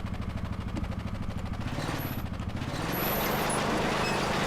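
Steady droning engine of a vehicle in a tank video game, a low rumbling hum with a shifting pitch that rises and settles, loud and continuous with no talk.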